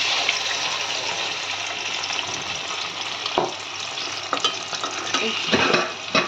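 Onion paste sizzles loudly in hot oil in a pan after paneer has been fried and lifted out. A spoon scrapes and stirs it in several bursts over the continuous hiss.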